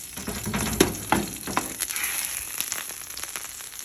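A whole branzino just pulled hot from the oven, sizzling and popping with several sharp crackles over a bright continuous fizz, close up and unvoiced.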